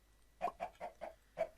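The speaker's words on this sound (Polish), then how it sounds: "Jeden kurczak, drugi kurczak." Chickens clucking in Minecraft: a quick series of six short, evenly spaced clucks, close and clear against a quiet background.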